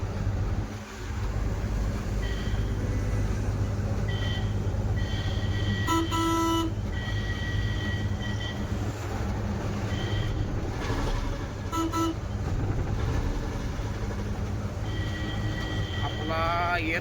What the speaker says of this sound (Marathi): त्यामुळे आपण टी हॉर्न चालू केलेला आहे.